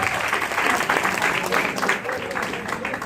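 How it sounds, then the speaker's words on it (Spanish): An audience at an evening talk on positive parenting breaks into dense, continuous applause, loud and close, sustained throughout with a faint murmur of voices underneath. "Así con el aplauso del público para ellos mismos, iniciamos."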